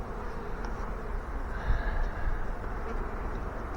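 A large honey bee swarm buzzes inside a hive box, a soft, continuous hum of many bees, fairly faint and steady with slight swells.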